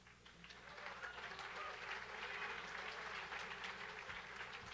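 Steady applause from a large crowd, a dense continuous patter of clapping that holds at an even level throughout.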